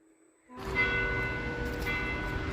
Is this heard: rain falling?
no